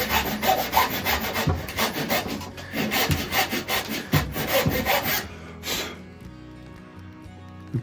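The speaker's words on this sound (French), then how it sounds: "je reprends une autre scie. Assez fine, elle aussi. C'est une scie à queue d'aronde" A fine dovetail saw cutting into pallet wood, rapid rhythmic rasping back-and-forth strokes close by for about five seconds, then the sawing stops and only faint room sound remains.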